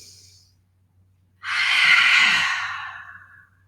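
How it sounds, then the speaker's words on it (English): A loud, long breath pushed out through the mouth, rising sharply and tapering off over about two seconds after a quiet pause, heard alone during a gentle yoga class. "a little bit louder out through the mouth as you exhale"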